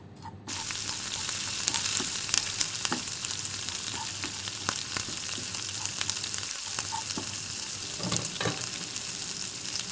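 Ground chili, coriander, turmeric and beef masala sizzle as they heat in a pan for beef roast, a constant loud frying hiss with occasional stirring scrapes and pops, no talk.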